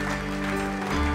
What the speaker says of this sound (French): on peut applaudir ensemble le roi des rois